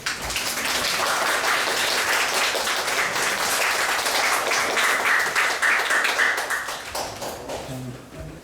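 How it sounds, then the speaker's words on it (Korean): Teachers and parents applaud at a children's national assembly committee session in Korea, a sustained, even wash of many hands clapping together that tapers slightly at the close. "우리 여러분들 뒤를 보고 한 번 더 박수를 해볼까요?"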